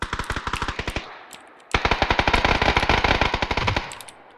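Rapid automatic gunfire in the battle royale game PUBG, two loud, close bursts of evenly spaced shots separated by a short pause, the second burst longer and sustained.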